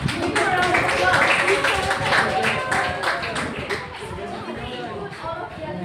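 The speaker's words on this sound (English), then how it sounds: "Give me a round of applause." Students in a classroom clap for a classmate, a short scattered round of hand claps with voices talking over and around it.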